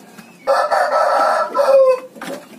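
A large Puerto Rican fighting rooster crows loudly and close by, one long drawn-out call, with faint clucking just before and after.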